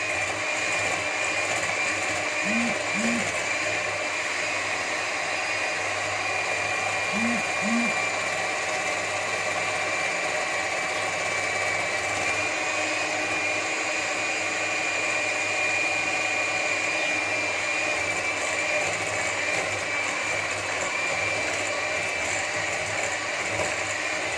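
An electric mixer beats eggs for a birthday cake, a steady, close mechanical whine and hum that runs unbroken throughout with a few faint knocks.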